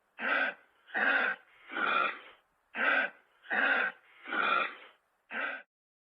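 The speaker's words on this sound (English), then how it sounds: "It's a kangaroo!" A kangaroo gives seven evenly spaced, breathy huffing grunts, each short and rasping, heard close and alone against silence.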